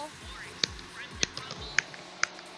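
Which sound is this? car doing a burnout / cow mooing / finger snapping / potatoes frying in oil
finger snapping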